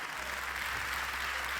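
An audience at a live show applauds in a steady, even burst of many hands clapping, sustained from start to finish with a low hum beneath.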